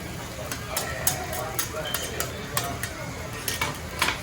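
Monja batter spreading across a hot griddle in Tokyo, a steady close sizzle broken by repeated scraping clinks of a metal spatula, with faint voices in the background.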